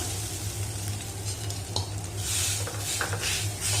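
Grated coconut roasts in ghee in a pan over a medium flame, with a steady close sizzle and the occasional scrape of a stirring spoon.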